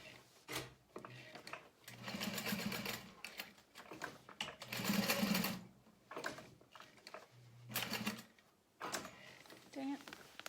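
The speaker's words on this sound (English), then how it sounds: "And then you're gonna sew in the U shape." A sewing machine stitches a U shape on a tote bag, its motor whirring in uneven bursts of varying length with pauses between, mechanical clatter close by while a person talks over parts of it.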